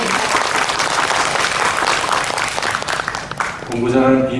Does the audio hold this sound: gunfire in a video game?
no